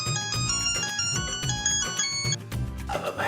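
A telephone rings with a bright, repeating melodic ringtone for an incoming call, clear and close, playing alone with no talk over it before it stops near the end.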